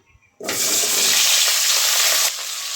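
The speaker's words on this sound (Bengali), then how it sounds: "এখন এই তেলের মধ্যে আলু এবং ফুলকপি দিয়ে ভেজে নেব" Potato and cauliflower pieces drop into oil and burst into a sudden loud, rushing sizzle that holds steady for a couple of seconds and then eases slightly.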